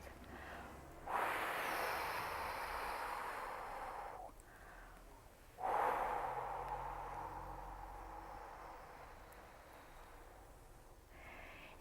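Slow rhythmic breathing during a labour-preparation exercise, with long soft exhalations, two drawn-out breaths separated by a short pause, close and quiet.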